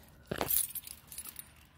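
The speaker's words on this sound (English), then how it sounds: "I always loop my keys." Keys jangle close by as they are looped onto something, with a bright burst of metallic clinking near the start followed by softer scattered rattles.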